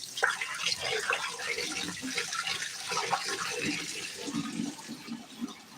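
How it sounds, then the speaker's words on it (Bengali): Running water splashes steadily as fish are washed at a market, a close, continuous spattering wash of water lasting several seconds. "এখানে ধোয়া ধোয়ের কাজ চলছে"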